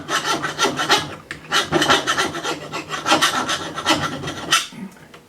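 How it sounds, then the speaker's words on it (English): Steady rasping strokes of a metal file taking excess brass off a rifle cartridge case after the trim die, reloading for a 256 Winchester Magnum; loud, close and continuous back-and-forth filing with a brief pause. "You can take a file and take that off."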